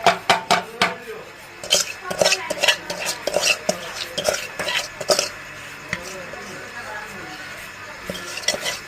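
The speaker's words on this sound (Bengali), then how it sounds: "মাখানো শেষ এখন আমি প্রেশার কুকারে ঢেলে দেবো" Marinated duck meat tipped and scraped from a bowl into a pressure cooker, with repeated close metal clinks and knocks of a utensil against the pot, irregular and fairly loud, easing off toward the end.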